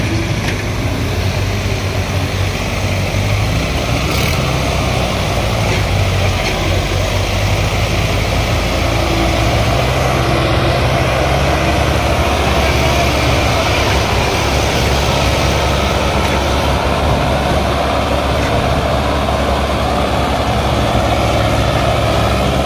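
A Sonalika 750 DI tractor labours at full power hauling a loaded trolley, its engine producing a loud, steady, low throbbing drone that holds constant throughout with no speech.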